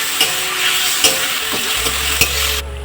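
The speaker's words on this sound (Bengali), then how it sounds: "পেঁয়াজ আদা রসুন ভেজে নেব।" Onion with ground ginger, garlic and green chilli sizzling in a pan, a steady close crackle punctuated by three sharp spatula scrapes, ending abruptly with a low hum.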